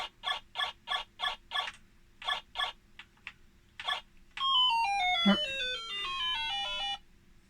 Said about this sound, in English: It does a good enough job of putting some sound into the game.